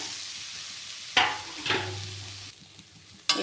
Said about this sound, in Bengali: আবার ভালোভাবে নেড়ে চেড়ে নারকেল পোড়াটা একটু আমি ভেজে নেব